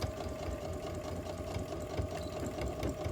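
Close, steady whirring and rapid mechanical chatter of a sewing machine stitching fabric for an ID pouch made from a dish drying mat, running continuously at a constant speed with no talking.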